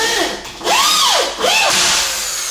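A drill drives a yellow self-tapping screw into wood during squeak-free floor installation on joists, giving a loud rising-and-falling motor whine in two or three bursts as the screw bites and tightens.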